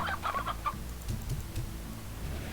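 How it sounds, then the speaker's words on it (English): A rooster in the video game Slime Rancher gives a few quick clucks, followed by low, throaty clucking under a steady game ambience. "A rooster."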